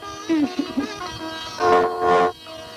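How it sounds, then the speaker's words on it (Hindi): Two sustained, loud car horn blasts, each about half a second long, sounding fairly close after a few short, softer tones at the start. "हॉर्न बजा रही है"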